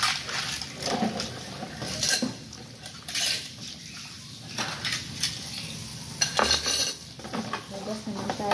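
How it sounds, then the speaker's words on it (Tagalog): Dishes and plates being washed by hand, with plates and cutlery clinking and scraping under running water in quick, irregular clatters, close and moderately loud, with brief quieter gaps between bursts. "Hugas naman tayo ng plato."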